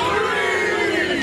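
A small crowd at a wrestling match lets out a loud sustained shout of cheering and yelling, close and continuous for a brief moment.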